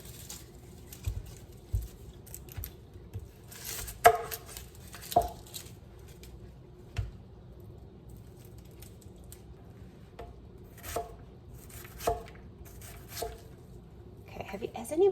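Knife chopping freshly harvested, still slightly dirty garden vegetables on a cutting board, giving sparse, irregular taps and knocks at close range, with someone speaking softly between cuts in a home kitchen.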